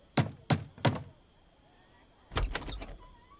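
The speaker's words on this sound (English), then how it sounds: "He knocks on Ali Baba's door." Three sharp knocks on a wooden house door, evenly spaced and close, followed after a pause by a louder cluster of thumps and rattles, with a steady high whine running underneath.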